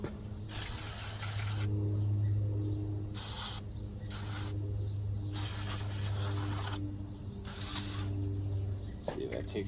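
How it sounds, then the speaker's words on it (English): Engine degreaser sprayed onto muddy brakes in a series of close, loud hissing bursts of varying length separated by short pauses, over a low steady hum. "I'm gonna come spray that over here real quick."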